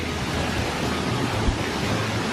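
Water rushing steadily at an old mill along the Roaring Fork Motor Trail in Gatlinburg, a dense, continuous roar close by with no talk over it.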